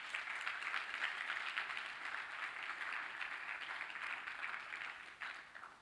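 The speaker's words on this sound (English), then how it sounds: "Big round of applause." Conference audience applauding at the end of a talk at Ubuntu Summit 2023, a faint, distant, even round of clapping that holds steady and then trails off near the end.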